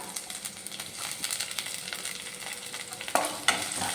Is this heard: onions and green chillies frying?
yes